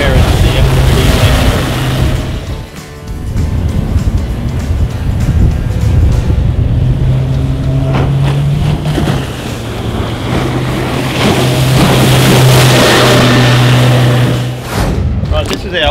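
An Evinrude E-Tech outboard motor idles on a boat, a low steady hum held under strong wind buffeting and splashing water, with a person talking over it throughout.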